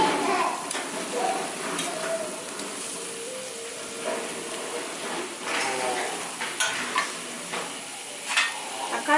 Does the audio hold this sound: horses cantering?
no